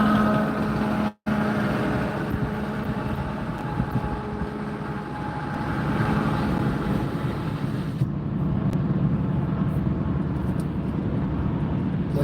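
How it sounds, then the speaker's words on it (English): A truck passing on a road at about 52 mph, heard from inside a moving car as a loud, continuous rumble and wind roar that swells and eases with no talk. "I want you to hear this truck."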